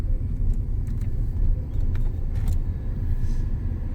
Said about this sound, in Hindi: और गाड़ी चल रही है एसी ऑन में?